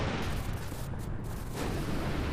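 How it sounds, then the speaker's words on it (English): A large, sustained in-game explosion from Final Fantasy XII rumbles as one continuous, dense roar across the whole stretch, loud and broadband with no voices over it. "That explosion is so satisfying."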